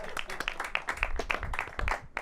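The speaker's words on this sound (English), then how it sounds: "Give Sean a round of applause." Sparse, scattered clapping from a small audience at a rum cocktail demonstration, short and fairly close, mixed with some chatter.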